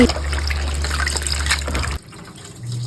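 Water gushes steadily into a pot of pechay and noodles for about two seconds, close and fairly loud, then stops, leaving quiet room noise.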